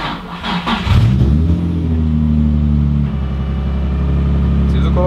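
A Nissan 350Z drift car's original VQ 3.5 engine cranks briefly, catches and settles into a loud, steady idle close up, with a low rumbling tone and no talk over it.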